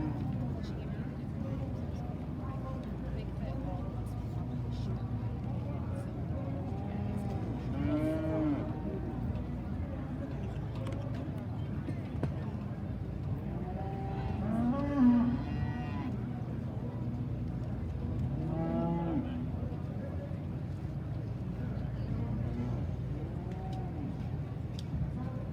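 Cattle moo repeatedly at a junior heifer livestock show in Arizona, several drawn-out calls spread across the clip under a continuous announcer's voice and arena murmur.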